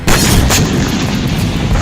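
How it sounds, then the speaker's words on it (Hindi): A heavy missile explosion strikes a Ukrainian military base in Sudzha, a loud booming blast with a sustained, rumbling roar that stays dense and powerful throughout, with no talk. "रूस ने सुज्जा में मौजूद यूक्रेनी सैन्य बेस पर मिसाइल से हमला किया, जिसके बाद जबरदस्त धमाका देखा गया।"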